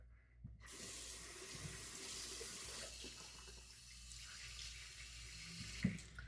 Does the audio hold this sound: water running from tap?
yes